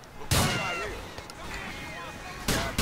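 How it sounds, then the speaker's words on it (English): Two loud, close shotgun blasts in GTA The Ballad of Gay Tony, one near the start and one near the end, each sharp and booming, with quieter game ambience between them. "Three shotgun shells to the face"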